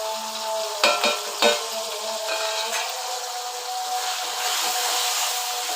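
Turmeric, coriander powder and chili powder frying in a hot pan for a drumstick prawn curry: a few quick scraping stirs near the start, then a steady bright sizzle that holds throughout, with no talking.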